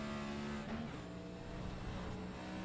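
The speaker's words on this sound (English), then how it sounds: "You see how he's fighting the car when he gets up through the gears." A race car at Mosport with failing brakes accelerating up through the gears, a steady engine drone rising and shifting pitch, heard from a distance with no voices.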